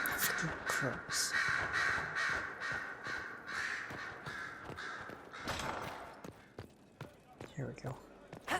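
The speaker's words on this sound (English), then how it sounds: "Crows." Crows caw repeatedly in Dragon Age: Inquisition, their harsh calls rising over busy ambient game noise and a voice talking.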